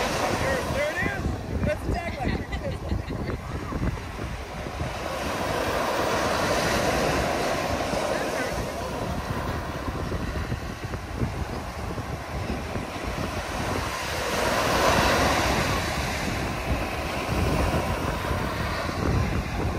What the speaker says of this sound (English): so that was the beach